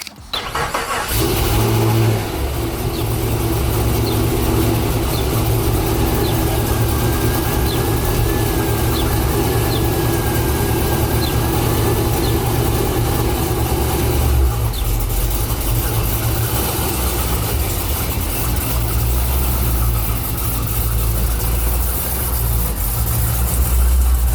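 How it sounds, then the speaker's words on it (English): A Pontiac G8 GT engine cold-starts and settles into a loud, steady idle with a deep low rumble throughout, the note shifting slightly partway through. "Fire, cold start."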